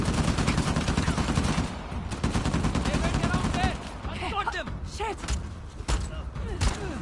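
Rapid gunfire in the video game Uncharted The Lost Legacy, sustained automatic bursts that thin into scattered shots and thuds, with a voice talking over parts of it.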